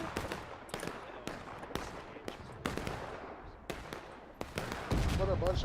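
Artillery canister shots and battlefield gunfire in War of Rights, a Civil War video game, at Antietam Creek: a rapid series of sharp, loud cracks, each decaying quickly, scattered irregularly across the whole stretch.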